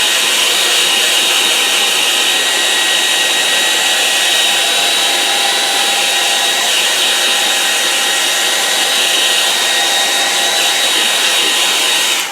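A hair dryer blows steadily and loudly, drying gouache paint on a landscape painting, with a constant whirring hum and hiss that holds unchanged from start to finish, with no talk.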